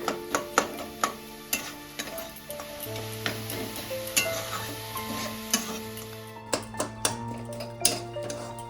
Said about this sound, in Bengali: গুড়টা একটু যতক্ষণ না গলছে ততক্ষণ আমি একটু নেড়ে নেড়ে